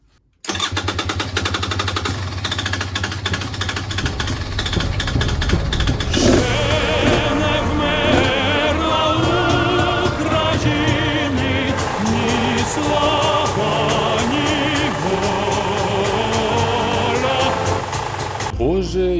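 A two-stroke boat motor running after its first start in half a year, loud and close, with a steady buzzing idle that holds for nearly the whole stretch before cutting off at the end.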